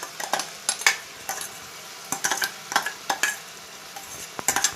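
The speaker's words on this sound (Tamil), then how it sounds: "மசாலாவும் கொஞ்சம் எண்ணெயில் அப்படியே ரோஸ்ட் ஆகட்டும்." Chicken masala roasting in oil in a pan while a spoon stirs it, giving repeated close scrapes and clatters over a soft continuous sizzle, with no talking.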